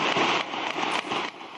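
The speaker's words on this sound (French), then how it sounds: "200 coups de feu sont tirés." Gunfire during a police shootout crackles in dense, rapid bursts, loud and continuous, with several sharp reports standing out over a sustained rattling roar.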